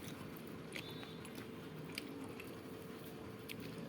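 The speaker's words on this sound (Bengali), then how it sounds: "এই পেঁপেটা দিয়ে নিলাম, এই কাঁচা লঙ্কা খেলাম" Green chili and papaya being chewed up close, soft wet mastication with a few sharper crunchy bites standing out over a steady low background.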